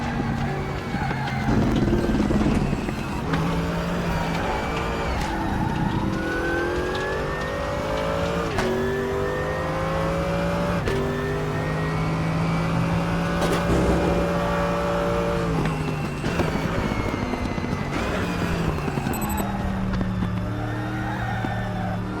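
Race car in the Raceroom sim racing game during a qualifying lap, engine revving and climbing through gears with shifts and drops, loud and continuous for the whole stretch, no talk.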